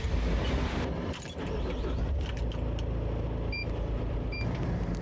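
Service vehicle for a hot water pressure cleaner driving to a job site, with a steady loud engine and road rumble throughout, a brief dip and some faint clinks partway.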